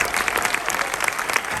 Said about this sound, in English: Applause for our filmmakers.